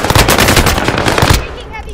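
Heavy automatic gunfire in a battle royale video game, a loud dense burst of rapid shots that cuts off abruptly, leaving a brief quieter tail.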